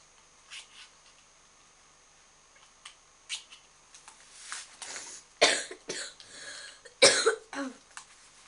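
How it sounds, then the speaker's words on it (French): Several coughs, a few soft ones early and then two louder, harsher bursts near the end, close to the microphone in a quiet room. "Encore désolé parce que je tousse"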